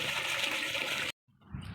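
Water rushes through a drip irrigation line gate valve on a moringa farm: a loud, steady gushing flow stops abruptly, then returns and builds again after a brief silence.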